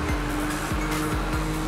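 A car drifting in the Need for Speed Rivals video game, its engine droning loud and close under a continuous tire squeal with repeated rising engine sweeps.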